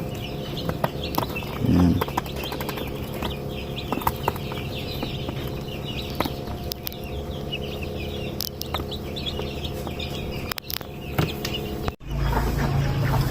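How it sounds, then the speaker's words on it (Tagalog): Newly hatched chicks, a Rhode Island Red and native chicken mix, peep continuously in a backyard poultry setting, with scattered clucking and rustling close by and a brief spoken word near the end. "Cute tignan ng mga sisiyo mga tropa pag bagong pisa oh."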